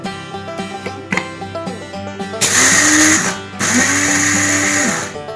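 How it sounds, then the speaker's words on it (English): A small electric coffee grinder grinding beans whirs loudly in two bursts, its pitch rising as it spins up, with softer clattering and handling noises before it starts. "So here I have an electric coffee grinder."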